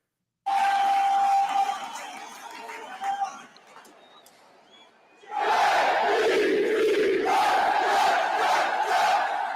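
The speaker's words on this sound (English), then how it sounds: "but little Jets chant for you" New York Jets fans chanting in a stadium, a loud massed crowd chant in rhythmic bursts, dipping into a quieter murmur midway before surging back at full volume.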